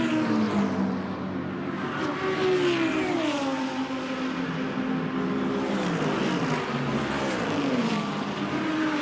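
Mercedes GT race cars in practice at Imola scream past the timing line, their engine notes rising and falling with Doppler sweeps as several cars pass in close succession, loud and continuous with no talk.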